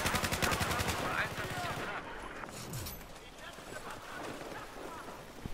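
Rapid M9 pistol fire in a Battlefield 4 multiplayer match, a quick string of sharp shots followed by scattered game noise.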